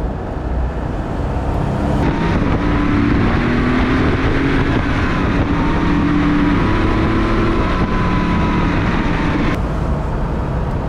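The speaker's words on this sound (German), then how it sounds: "Man merkt auch, wie der Turbolader richtig losmacht." A 1989 Porsche 911 3.3 Turbo Cabriolet with a five-speed gearbox accelerates hard as the turbocharger spools up. Loud, close engine roar rises steadily in pitch, with a rushing whoosh layered over it.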